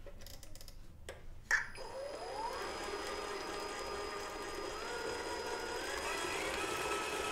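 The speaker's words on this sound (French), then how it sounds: "Je vais d'abord brasser la pâte dans un robot à faible vitesse pendant 7 minutes." A stand mixer kneads savarin dough at low speed, a steady mechanical whir with faint rhythmic ticking from the bowl, starting after a brief knock and holding evenly near the microphone.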